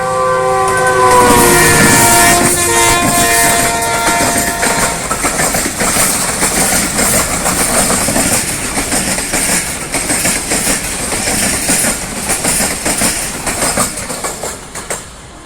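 A Pakistan Railway locomotive, the Jaffar Express, sounds its whistle with long steady tones over the opening seconds, then loud rolling wheel clatter and rumble as the train passes close by.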